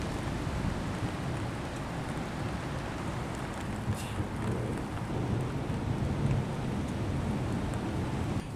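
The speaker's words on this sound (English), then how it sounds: "We're starting to get some drops of rain." Steady rain beginning to fall outdoors in the Midwest during an approaching thunderstorm, a dense continuous hiss with low rumbling wind noise throughout and no voices.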